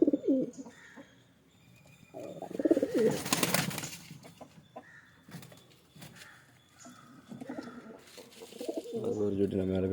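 Pigeons, kept as a few pairs at a home, give low, soft cooing calls at intervals, with some rustling around them. A voice talks nearby at times.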